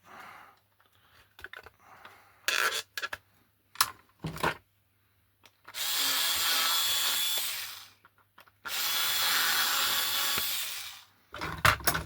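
A power drill bores out the chassis of a 7/8th scale Corris coach to a 3.3 mm clearance fit: two sustained whirring runs of a couple of seconds each, close and clear, between scattered clicks and handling knocks.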